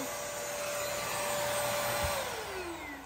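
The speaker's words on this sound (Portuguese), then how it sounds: "Tu ligou o aspirador?" A household vacuum cleaner runs with a steady loud whine and airy roar, its motor pitch sliding downward near the end, with no voices.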